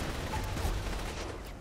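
Sniper gunfire during a chaotic shootout in the video game Saints Row: The Third, a dense, continuous wash of loud shots and battle noise with no clear gaps between them.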